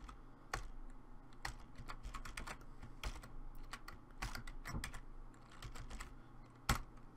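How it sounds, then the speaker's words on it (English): Fingers type on a computer keyboard at a server terminal, a quick, irregular run of crisp key clicks over several seconds, close and fairly quiet, with no talking. "If I could just type."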